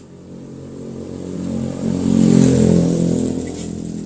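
A motorcycle engine fired up with the electric starter button during an injector check, rising into a steady idle that swells in the middle and settles, close and fairly loud with no talking.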